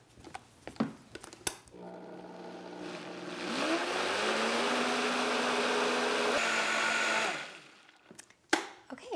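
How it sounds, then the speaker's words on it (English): A blender whirs steadily for several seconds, its motor pitch rising slightly, as it blends vegan lemon cheesecake filling, with clinks and handling noises before and after. "now we're gonna blend this all again, and we want it to all emulsify and mix together so it's nice and creamy again"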